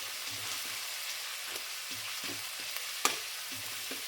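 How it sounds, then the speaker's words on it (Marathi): Green chilies sizzle in hot oil in a pan, a steady soft frying crackle with small pops and a sharper spatter near the end, fairly quiet and without speech. "तर ह्या गरम केलेल्या तेलात आधी आपण मिरची टाकून घेऊया।"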